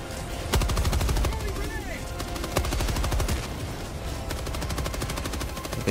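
Rapid automatic gunfire rattles continuously through a Helldivers 2 battle, dense bursts with heavier thumps mixed in, loud and close, with players talking over the noise.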